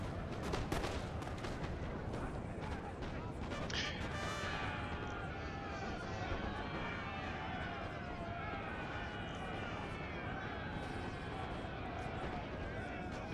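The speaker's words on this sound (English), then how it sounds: "They're getting shot by muskets." Musket volleys crackle through a Napoleon: Total War battle, sharp bursts of gunfire clustered early then a continuous rumble of distant battle noise beneath steady talking.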